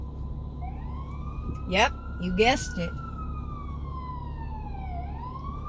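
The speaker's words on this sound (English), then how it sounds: "I'm right next to the fire station, and the fire truck and the ambulances are headed somewhere." Fire truck and ambulance sirens heading out from a nearby fire station, a steady wail that rises and falls and carries through the whole stretch over a rumbling background while a voice speaks briefly.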